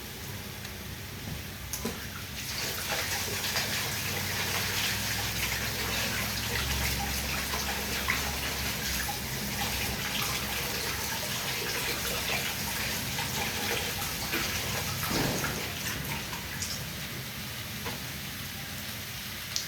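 Salted banana blossom rinsed under a running kitchen tap, a steady splashing stream of water with light clatter, constant and fairly close throughout.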